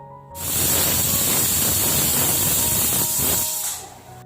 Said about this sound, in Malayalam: നമ്മളെ ചോറിൻ്റെ കുക്കർ ഇതാ മീഡിയം ഫ്ലെയിമിൽ വെച്ചിട്ട് ഒരു വിസിൽ വന്നിട്ടുണ്ട്